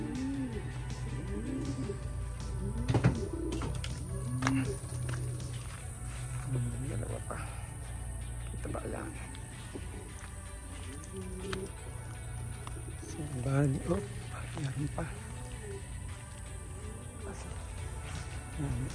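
Racing pigeons coo in soft, repeated calls as they arrive at the loft during a young bird training race, with a low steady hum and occasional background talk.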